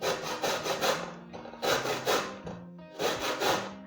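Lemon rind is rubbed against the fine side of a grater in short bursts of raspy scraping, three clear rhythmic runs of strokes with brief pauses between, close and fairly quiet.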